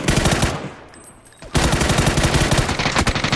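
Rapid bursts of automatic gunfire from the PUBG battle royale game, close and loud, rattling almost continuously apart from a brief drop near the middle before the shooting resumes.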